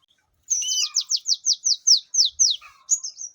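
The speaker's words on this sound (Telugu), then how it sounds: "నేనైతే మళ్ళీ గూట్లోనే వేస్తున్నా పిట్టని, ఎందుకంటే భయపడుతున్నాయి కావచ్చు." A small baby bird being placed back into its nest chirps in a quick run of about a dozen rapid, high tweets, close and clear against a quiet background.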